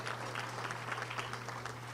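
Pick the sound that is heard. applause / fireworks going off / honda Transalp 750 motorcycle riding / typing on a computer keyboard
applause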